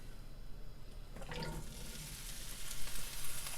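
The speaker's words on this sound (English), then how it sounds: "I'm just going to put chanterelles in the pan." Chanterelle mushrooms dropped into a dry pan with no oil or butter, giving a steady hissing sizzle that swells after a second and stays continuous, fairly close and without speech.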